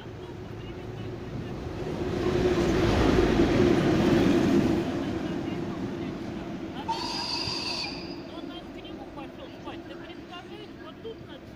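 A VL-series electric locomotive, apparently hauling freight, rolls through a snowy winter suburban railway station, a broad rumbling roar that swells to a peak around the third second and then eases into steady rail noise, with a brief high tonal squeal near the end and wind on the microphone.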